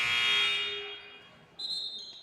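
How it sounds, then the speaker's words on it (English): A buzzer sounds at a girls' high school basketball game in a Baldwin City gym, a loud tonal blare that fades out, then a second higher-pitched electronic tone cuts in and holds. "A buzzer stops play."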